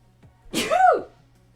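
A single loud, close sneeze with a brief sharp intake before it and a rising, then falling, nasal burst, heard alone.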